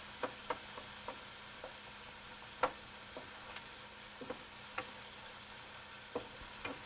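Vegetables for minestrone sauté quietly in a pot, a soft, low sizzle with occasional light clicks and taps of a spoon against the rim, faint and close with no voices.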